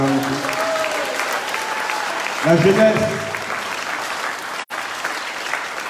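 An audience at a political meeting claps in a dense, sustained round of applause that runs throughout, with a speaker's voice briefly heard over it.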